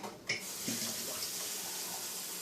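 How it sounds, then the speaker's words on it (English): About half a cup of water pouring into a pot of chunky chili, a steady close rushing splash running continuously after a brief clink at the start. "we're going to add just a little water to this, just so it has enough time to simmer without burning."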